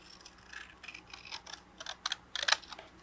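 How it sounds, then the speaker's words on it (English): A quiet, close series of crisp snips as scissors cut a paper strip along a pink line, a few rapid cuts building slightly louder toward the end, with no voices. "I'm going to cut right along this pink line here."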